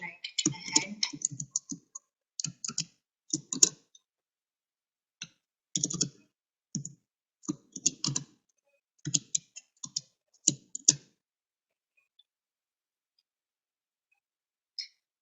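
Clicky computer keyboard keys tapped in quick bursts with short pauses, close and fairly loud, while XML code is typed with no one speaking.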